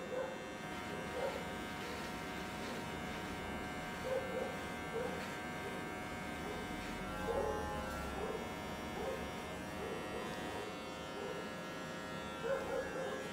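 An electric hair clipper buzzes steadily and close by during a skin fade haircut, humming nonstop with small changes in pitch while a barber talks over it.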